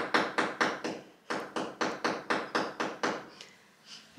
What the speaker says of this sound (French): Le clou est en train de se tordre dans le mur.